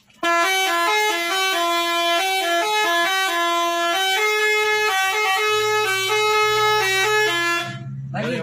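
A loud telolet musical bus horn plays a melodic tune of shifting tones, sustained and close, ending abruptly with a low engine rumble beneath.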